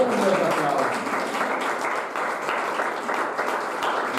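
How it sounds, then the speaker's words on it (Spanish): A church congregation at a Sunday school service applauding, a steady wash of clapping from many hands, roomy and even throughout with no break. "Denle un fuerte aplauso a Dios, hermano."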